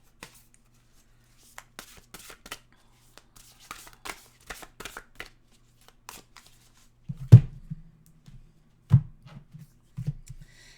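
Oracle cards being shuffled by hand: soft scattered riffles and taps at first, building to a few louder slaps and shuffles in the second half, close by and with no talking.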